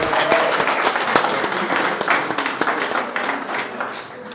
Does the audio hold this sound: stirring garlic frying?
no